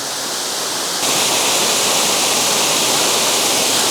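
Roaring waterfall in Yorkshire, heard up close as a steady, loud broadband rush of falling water that grows slightly louder after the first second and continues unbroken with no voices.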